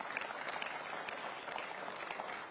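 Steady applause from a Conservative Party conference crowd, dense clapping sustained throughout at even loudness.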